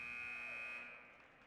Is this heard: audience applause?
no